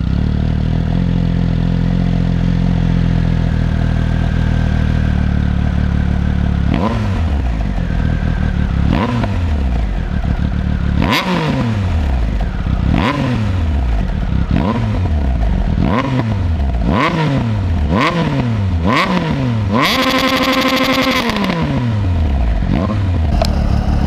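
A 2018 Triumph Speed Triple 1050 RS idles loudly and then gets a series of sharp throttle blips. Each rev rises and falls quickly in a repeating rhythm before one longer, higher rev near the end.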